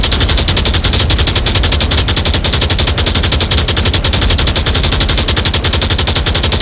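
Continuous, very loud automatic gunfire from the VR shooter Onward, with dense rapid shots in an unbroken stream for the whole stretch and no talking.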